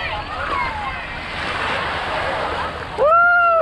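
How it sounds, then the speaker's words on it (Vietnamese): Surf breaking on the shore during an island tour off Nha Trang, Vietnam, a steady rushing wash that fills the first three seconds before a voice briefly speaks close by. "Sóng đánh thích nha."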